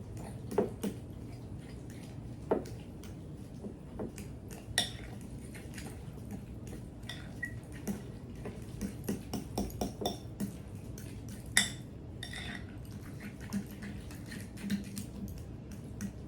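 A fork or spoon stirs and mashes egg yolks with celery seed and white pepper in a bowl, giving irregular clinks and scrapes against the bowl at close range, with no voices.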